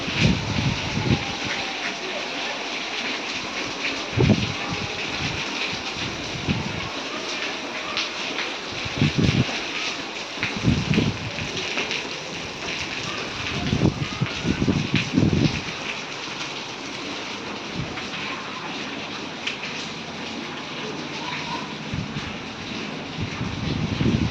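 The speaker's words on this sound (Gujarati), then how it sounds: "જોરદાર અમારે વરસાદ શરૂ થઈ ગયા" Heavy rain pours down in a dense, continuous hiss, with occasional louder bursts of splashing over the steady downpour.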